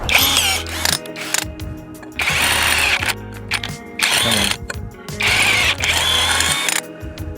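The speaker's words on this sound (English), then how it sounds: "Now what we do is just get a slightly larger drill bit and we're away." A power drill fitted with a slightly larger bit bores out a hole in a fishing kayak, whirring loudly and close in three sustained bursts separated by short pauses.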